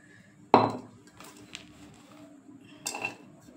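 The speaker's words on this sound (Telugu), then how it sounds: "చూడండి ఇలా నేను బౌల్లో వేస్తున్నాను." Ingredients for chicken 65 dropped into a bowl in a kitchen, one sharp loud clunk followed by a few softer knocks and clinks spread over a few seconds with quiet gaps between.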